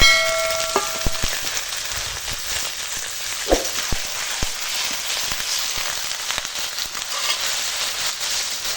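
Marinated mutton goes into a pan of fried onions and bay leaves: a broad, steady sizzle with a few sharp clinks and knocks near the start, fairly loud and close, with no talking.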